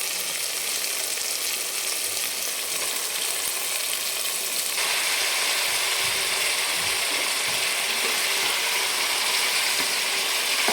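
Mutton going into an onion, tomato, turmeric and salt masala in a pot, a loud continuous frying hiss that grows brighter partway through, with no talking.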